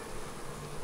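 A bee yard hive stands open as honey bees fill a super, giving a brief, steady, close buzzing drone with no voices.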